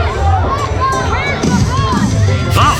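A pro wrestling crowd at a SalmonFest showdown cheers and shouts continuously, a dense roar of voices with whoops rising throughout, loud and close.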